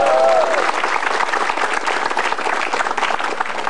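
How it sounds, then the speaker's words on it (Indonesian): A studio audience at an Indonesian stand-up comedy show claps and cheers in a steady, dense burst, loud and continuous throughout, with a brief tonal note at the start. "Tepuk tangan."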